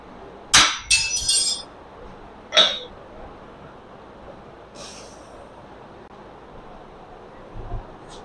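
A hardened steel railroad spike is struck with a hammer in a bladesmithing shop: a few sharp, ringing metallic impacts in quick succession, then another lone hit and a fainter strike later, loud and close with quiet gaps between.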